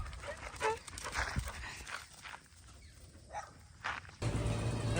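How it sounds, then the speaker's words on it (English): A puppy close by whimpers and gives short yaps among rustling and shuffling noises, then a louder, steady background noise cuts in at the end. "Gotta watch out for the puppy."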